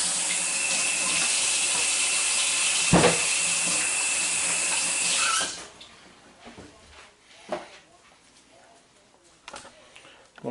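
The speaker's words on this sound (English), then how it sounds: "Let me wash my hands now." Tap water runs steadily into a kitchen sink while someone washes their hands between handling a turkey, a close rushing stream for about five seconds before it shuts off, leaving quiet clatter and faint speech.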